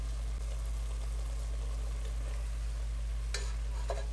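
Chicken afritada ingredients are stirred in a pan over a steady loud sizzle, with a couple of brief scraping clinks of the utensil near the end.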